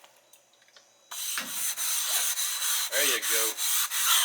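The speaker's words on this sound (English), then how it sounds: "You want it to be really abrasive and scrub it." A food trailer griddle is scrubbed with oil and an abrasive pad in repeated loud back-and-forth rasping strokes at close range, starting after a brief quiet stretch with a short spoken remark.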